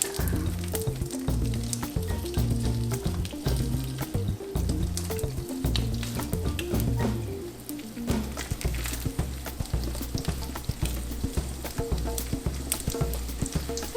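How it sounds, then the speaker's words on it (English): Steady crackling sizzle of hot oil in a pan, continuous and close, with faint bubbling underneath. "We should hear a nice sizzle."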